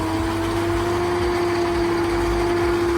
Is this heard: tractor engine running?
yes